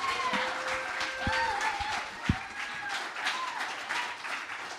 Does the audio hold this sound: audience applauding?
yes